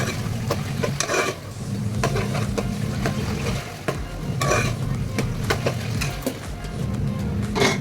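Masala with tomatoes frying in a pan while a spoon stirs and scrapes it, with a steady sizzle and irregular metallic clinks against the pan throughout.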